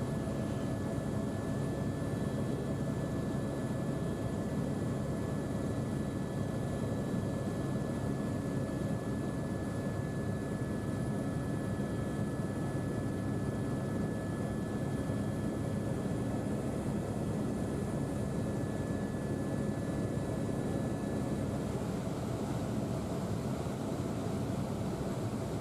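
Inside a helicopter during a sightseeing flight to a glacier, a steady, even rotor and engine drone fills the cabin without a break, at a moderate level and with no speech.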